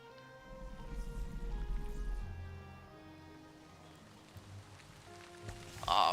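Steady rain falling in the video game Valheim, a soft continuous patter on surfaces with a low rumble early on, faint and ambient with no voices.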